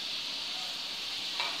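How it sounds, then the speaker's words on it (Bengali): French fries fry in hot oil while being stirred to keep them from sticking, a soft continuous sizzle close by with a faint scrape near the end. "ঠিকভাবে লাড়াচাড়া করবেন যেন একটার সাথে আরেকটা লেগে না যায়"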